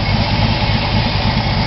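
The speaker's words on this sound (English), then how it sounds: "It's a 95 Mustang Cobra engine with the GT40 kit." A 1986 Ford Thunderbird with a 1995 Mustang Cobra engine fitted with a GT40 kit and Kenny Brown Racing manifold idles loudly and steadily up close, a deep rumbling throb with no talk over it.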